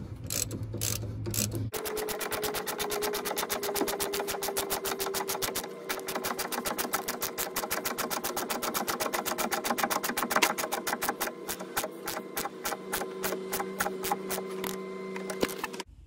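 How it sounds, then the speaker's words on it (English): A 14 mm socket presses a wheel bearing bush into place on a 2003 Subaru Forester, giving a steady, rapid mechanical clicking and whirring that runs continuously and fairly loud after a brief pause at the start, with no talking. "14 mil socket, will in theory press the bush in and get it in place."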